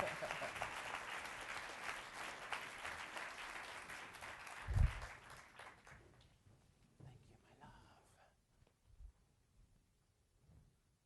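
An audience at a university diversity summit claps to welcome the speaker, a full round of applause that thins and fades away after several seconds, leaving a few scattered claps and quiet room noise.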